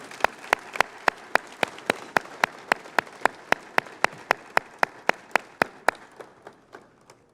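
Audience applause at an evening awards banquet for Presidential Citations honorees, heard as a steady run of sharp, evenly spaced claps ringing out alone, slowing and thinning toward the end.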